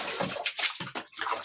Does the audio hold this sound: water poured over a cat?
yes